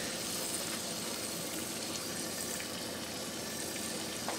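Beef pieces frying in oil for a stew, a steady, dense hiss and sizzle that holds at an even level throughout with no talking.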